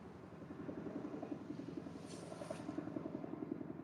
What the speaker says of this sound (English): that helicopter's really flying low over there